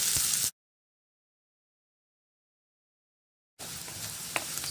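Onions sauté with green chilies and curry leaves in a pan, giving a soft, close sizzle with stirring that breaks off into silence and then resumes, with one brief clink.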